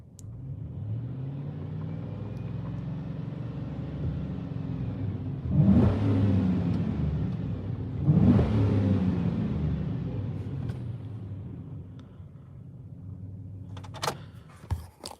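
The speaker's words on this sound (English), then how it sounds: "Oil pressure did drop down a little bit now that she's warm at idle." A warmed-up car engine idles with a steady low rumble, swelling twice into brief revs before settling back, with a few clicks and knocks near the end.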